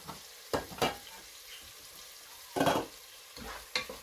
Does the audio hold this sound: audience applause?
no